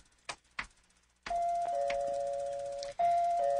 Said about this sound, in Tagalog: I will push that doorbell.